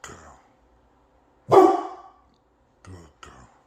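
A Boerboel dog gives a loud, close bark after a short opening sound, followed by two quicker, quieter barks, with silent gaps between them.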